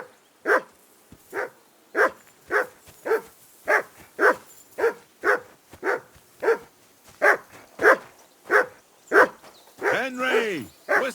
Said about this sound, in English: That dog of yours is barking like the devil.